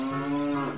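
A cow in Zelda: Ocarina of Time on the N64, giving a single sustained, loud moo with a slight pitch drop near the end.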